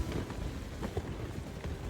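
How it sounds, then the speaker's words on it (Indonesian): Storm wind and rain batter a mountain camp, a dense, steady roar of gusts and rainfall with no clear breaks, close to the microphone and moderately loud. "Di tengah gempuran angin badai dan hujan kayak gini, saya masih bisa tidur nyenyak sih akhirnya."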